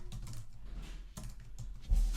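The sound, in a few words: typing on a Mac computer keyboard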